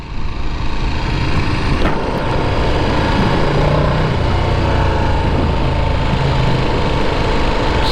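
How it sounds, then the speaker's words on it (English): A Ducati Panigale V2 motorcycle in third gear gives a steady, loud engine drone throughout, with a low exhaust note rising slightly in pitch and no voices present. "Listen to the exhaust now when I put it into third gear."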